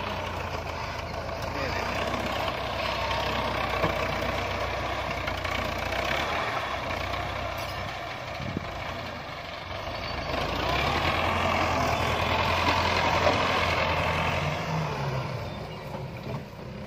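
A tractor hauling a trolley loaded with soil drives on and swings around through a turn in a village, its engine giving a steady, fairly loud rumble that swells and fades slightly across the whole stretch.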